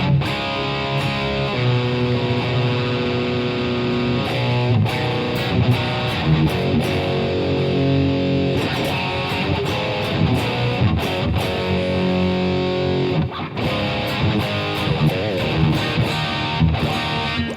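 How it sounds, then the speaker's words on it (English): Electric guitar played through DV Mark and Engl Fireball amps into stereo delay, digital reverb and a Marshall vintage-style cab, giving a loud, distorted, sustained riff with rhythmic picked chords and long washing echo tails throughout. "a DV Mark and an Engel Fireball dual amp into a stereo delay, a digital reverb, and a Marshall vintage style cab"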